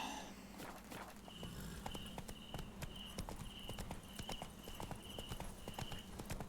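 Roach the horse's hooves clip-clop at a steady walking pace in The Witcher 3 video game, close and distinct, with a low musical bed and a faint repeating high tone behind.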